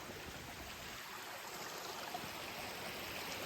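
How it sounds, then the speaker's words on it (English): A small, clear creek runs across a forest trail on Larch Mountain in the rain, giving a steady close rushing and babbling of water with no voices and little change in level. "coming up on a creek"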